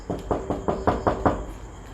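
Six or seven evenly spaced knocks on a door at a luxurious, supposedly haunted Thai house during a ghost-hunting visit, sharp and fairly close, with no talking over them.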